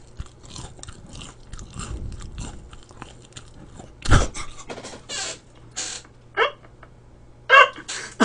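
Crispy fried Korean snacks such as pork cutlet, fried shrimp and tempura are bitten and chewed close to a loud mukbang microphone, giving sharp crunches and crackly chewing in scattered bursts, with no speech.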